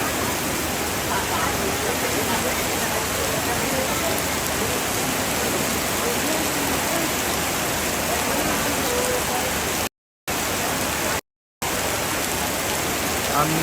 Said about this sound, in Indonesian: Deras sekali hujan.